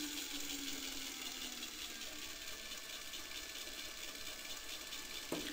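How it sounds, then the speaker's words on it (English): A small DC motor driven by an Arduino hums and whines steadily at high speed, a continuous close mechanical drone with a slight downward pitch drift and a faint click near the end. "this would be the highest speed at which the motor will go"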